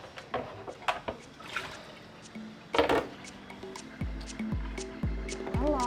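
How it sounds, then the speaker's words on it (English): Cold tap water runs and splashes over freshly boiled eggs in a kitchen sink, a steady close trickle broken by irregular drips and clatters as the eggs are handled. "our eggs are done, so I'm just running some cold water on them"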